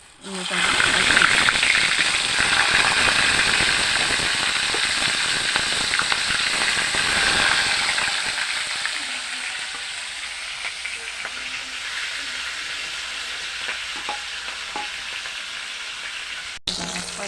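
Banana flower drops into hot oil and fries with a loud, hissing sizzle that stays intense for several seconds, then settles into a quieter, steady bubbling.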